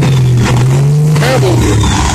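A white Freightliner cab-over truck rolling past close by, its steady low engine drone loud and continuous with a slight pitch shift as it goes, while a voice talks over it.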